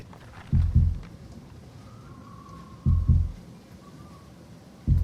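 A heartbeat sound effect with three slow, deep double thumps spaced about two seconds apart, loud and close over a low steady hum.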